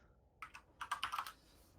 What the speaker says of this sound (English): I can really hear your keyboard.